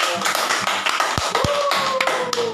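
A few people clap their hands during a live evening chat, giving a quick run of close, sharp claps with some uneven taps, while a faint tone rises in the background.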